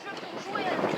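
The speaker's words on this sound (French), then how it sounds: "Désolé si vous entendez pas trop, c'est parce qu'il y a un peu de vent." Wind blows across the microphone in a forest, making a short, continuous rough rumble that swells slightly toward the end.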